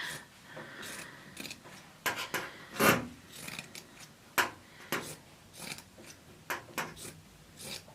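Sharp scissors snip through headband fabric in a quiet, uneven series of crisp cuts, with short pauses between strokes and no voices.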